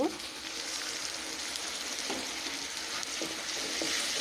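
Spices sizzle and fry in a pan of oil for a shrimp khichuri, a steady, fairly quiet hiss with occasional soft scrapes of stirring and no speech.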